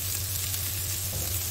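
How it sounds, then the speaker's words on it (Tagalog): Onions sautéing in a pan for pancit bihon, a dense, continuous sizzle throughout a brief moment, close and even, with a low hum beneath and no talking. "I-saute lang natin ang sibuyas hanggang sa maging brown"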